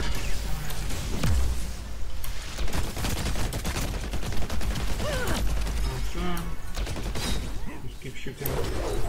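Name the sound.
weapon firing in the video game Heroes of the Storm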